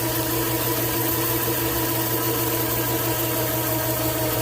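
A fishing line spooling machine running in high gear while loading line onto a big reel, giving off a steady, loud mechanical hum and whir with no change and no talking.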